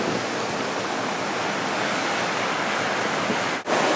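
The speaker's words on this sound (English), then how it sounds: "This is huge surf for Carolina Beach." Heavy hurricane surf pounds the shore near a fishing pier at Carolina Beach during Hurricane Irene, with overwash. A loud, continuous roar of breaking waves fills the whole clip, with a brief dip near the end.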